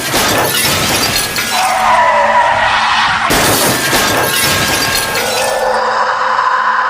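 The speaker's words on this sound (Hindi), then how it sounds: "राजेश ने चीखते हुए ब्रेक मारे और ट्रक सड़क पर फिसल गया।" A truck skids on a highway after hard braking. Loud tire screeches are joined by harsh crashing and shattering noises, with a second burst of skidding midway through.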